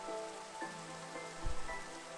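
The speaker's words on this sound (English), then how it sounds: "and it's raining" Rain falls in the Minecraft video game, a soft, even hiss of drops at low level with faint background music tones and a brief low thump partway through.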